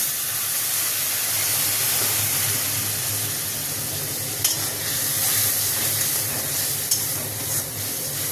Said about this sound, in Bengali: এবারে যে লবণ, জিরের গুঁড়ো, ধনের গুঁড়ো, লঙ্কার গুঁড়ো, হলুদ গুঁড়ো একসঙ্গে দিয়ে একটু জল দিয়ে কষিয়ে নেব